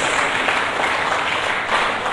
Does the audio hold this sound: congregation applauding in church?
yes